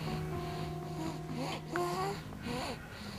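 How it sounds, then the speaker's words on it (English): A baby with breathing problems breathes heavily and wheezily up close, with whistling, rasping breaths and a few small snorting sounds repeating in a steady rhythm. "she's breathing heavy right now, you can hear it."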